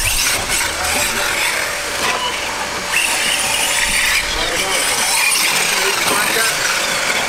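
TEKNO SCT410.3 RC short course race truck on its first drive around a track, giving a continuous loud electric whine and hiss with bursts of acceleration, with people talking nearby.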